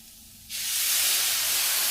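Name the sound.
milk poured into hot carrots cooking for carrot halwa, sizzling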